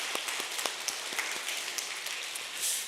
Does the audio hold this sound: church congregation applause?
yes